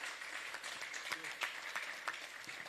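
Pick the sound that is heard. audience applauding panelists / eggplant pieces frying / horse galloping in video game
audience applauding panelists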